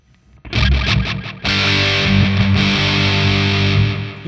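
An electric guitar runs through a Fender Hammertone overdrive or distortion pedal. A brief strummed burst gives way to a loud, sustained, heavily driven chord that rings on alone.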